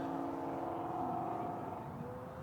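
A Hangar 9 Pawnee Brave 20cc RC plane engine held at full throttle, a steady high-pitched buzzing drone that sounds moderately distant and faint, with no voices.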